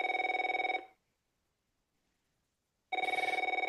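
A telephone bell rings in two clear bursts separated by about two seconds of silence, loud and close, with a rapid trilling pulse and no talk over it.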